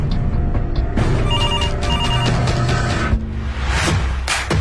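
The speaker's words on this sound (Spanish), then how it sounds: "El teléfono suena." A telephone bell rings loudly in a radio studio, sounding in repeated bursts of bright ringing over background noise, with no talk.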